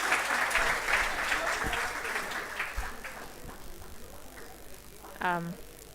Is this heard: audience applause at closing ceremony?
yes